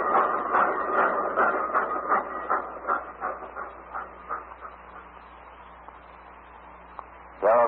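A train passes in a radio drama, a rhythmic clattering rumble that is loud at first and fades steadily into the distance, with a short burst of sound at the end.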